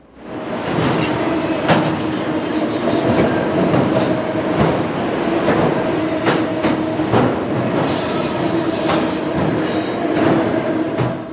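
An M267 autorack freight train rolls past in upstate New York, its cars giving a steady loud rumble with rhythmic wheel clicks over rail joints and a burst of high wheel squeal near the end.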